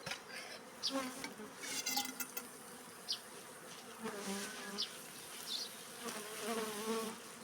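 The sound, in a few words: swarm of bees buzzing while being sprayed with water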